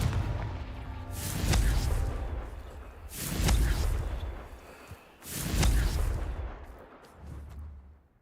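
Confringo blasting curse in Hogwarts Legacy: three loud whooshing blasts at steady intervals, each a booming burst that rolls off slowly, with a fainter fourth swell at the close.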